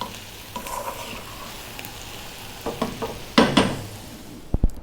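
Fried potatoes with coriander stirred in a pan for an Indian dry aloo fry: a low sizzle under several scraping stir strokes and a couple of louder clanks at the end, close and without speech.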